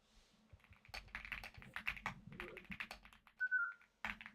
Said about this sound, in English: It's a custom keyboard, and it sounds creamy.